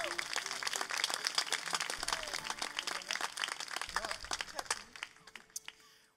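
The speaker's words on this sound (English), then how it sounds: "Give him a big round of applause." Crowd claps for a guitar player at a summer concert, a close, crackly burst of applause with audible talk underneath that fades out by the end.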